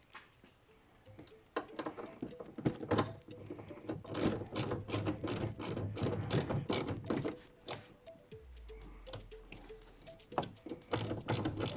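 A ratchet tightens the last bolt on an RBP LED taillight being installed on a Ford F150, giving close, crisp bursts of rapid clicking in irregular runs with short pauses between strokes.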